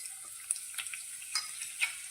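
About five or six thinly sliced garlic cloves sizzle in hot oil over a medium flame, a soft steady fry with small crackling pops scattered throughout. The sound is close and fairly quiet, with no talking.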